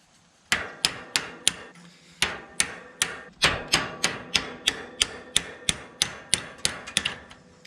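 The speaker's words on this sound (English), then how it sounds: "I'm just gonna keep hammering it back and forth until it gets all the way there." A stuck rake arm is struck repeatedly with a hammer, a sharp close metallic clank landing roughly twice per second, with brief pauses between runs of blows.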